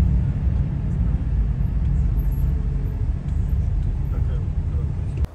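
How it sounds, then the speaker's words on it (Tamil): Steady low rumble of busy road traffic in Azerbaijan, engines droning continuously close by with no clear individual horns or voices standing out. "இங்கே பாருங்கள் எவ்வளோ டிராஃபிக்னு."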